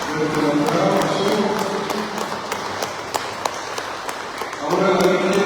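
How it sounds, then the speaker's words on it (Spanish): Congregation in a Sacred Heart of Jesus church in San Miguel applauding the Child Jesus, a dense crowd clapping that fades briefly then swells again, with voices mixed in. "Nuestro aplauso."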